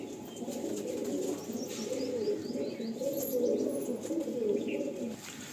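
A pair of Andhra high-flying pigeons, male and female, cooing softly and steadily at close range, with faint chirps now and then and no talk.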